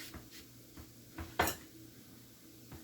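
A spoon stirring mushroom tapenade in a bowl, giving a few soft scrapes and light clinks against the bowl, with one louder knock midway, quiet and close.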